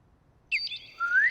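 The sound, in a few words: person imitating bird calls for a radio play background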